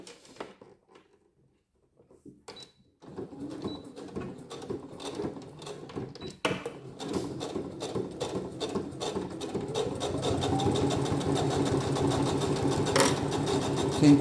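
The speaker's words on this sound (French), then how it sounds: "Maintenant, je vais coudre le haut." A sewing machine runs a straight seam on fabric for a small pouch, starting after a quiet moment with a soft rattling hum that builds into steady, close stitching.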